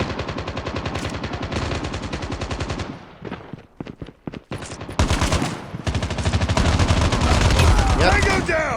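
Sustained machine gun fire in the mobile shooter Call of Duty Mobile, loud rapid bursts of automatic shots with a short lull of scattered single shots before the fire resumes heavily.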